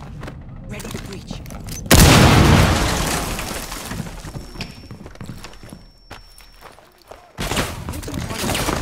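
A breaching charge detonating in the video game Rainbow Six Siege, a sudden loud blast that decays over several seconds, followed by scattered gunfire and game noise, with players talking on voice chat throughout.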